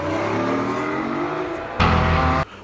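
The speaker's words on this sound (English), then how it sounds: "This is a nice racing car, guys." A racing car engine revs up with a rising tone, then gives a louder, harsher burst before cutting off sharply near the end, with no voices.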